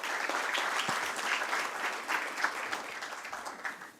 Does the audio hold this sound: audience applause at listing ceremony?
yes